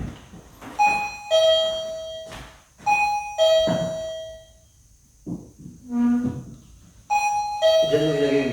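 A doorbell chimes several times in a large house, each ring a clear two-tone ding-dong with lingering ringing tones, separated by pauses, with people talking in between.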